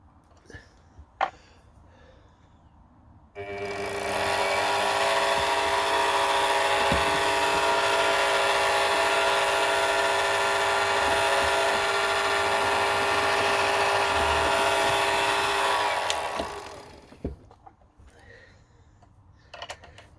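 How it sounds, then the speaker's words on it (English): A centre drill on a lathe face plate runs at a steady, loud whine for about thirteen seconds, then winds down. A few small clicks come in the quiet before and after. "pop the centre drill in"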